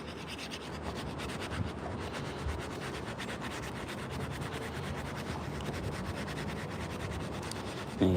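Sandpaper rubs back and forth over a carved wooden coffee scoop handle in quick, even strokes, close and continuous with no talking.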